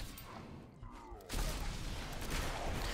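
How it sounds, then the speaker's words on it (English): Shadow explosions bursting as enemies die in Diablo 4, played as a ranged Rogue, erupting into a loud, dense crackling blast after a quieter stretch and rumbling on to the end. "So you see those shadow explosions when the enemies died?"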